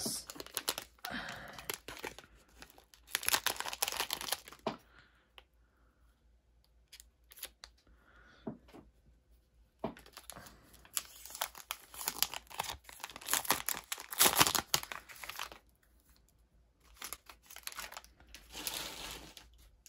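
Scissors snip open a 2016-2017 basketball card jumbo pack, then the foil wrapper crinkles and tears in bursts separated by quiet pauses, close by with no talking.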